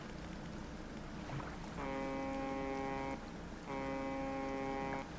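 A fishing boat's horn in the game Dredge sounds two long, steady blasts, each about a second and a half, separated by a short gap over a low wash of sea and wind.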